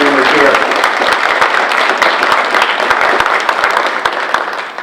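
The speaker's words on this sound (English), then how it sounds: "So I want to thank them and give them a round of applause if there's anyone here." A crowd at an elementary school grand opening applauds, many hands clapping in a close, loud, continuous patter that trails off toward the end, with a brief voice at the start.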